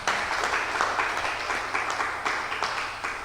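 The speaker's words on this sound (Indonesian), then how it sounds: "Tepuk tangan dulu buat Tuhan kita." A church congregation claps and applauds together after a sermon, a dense, steady wash of hand claps filling the room throughout with no voices over it.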